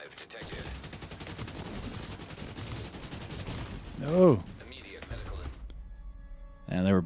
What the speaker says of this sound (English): There was a firefight!